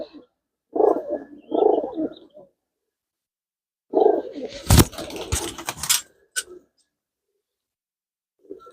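Pigeons kept for flying, being dewormed, give a few low, throaty coos close by, followed by a burst of handling clatter and rustling, then quiet.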